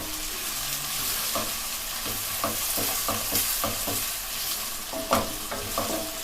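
Onion pieces fry in hot oil for a dry chicken masala, a loud, steady sizzling hiss close by, punctuated by regular scraping stirs of a spatula against the pan.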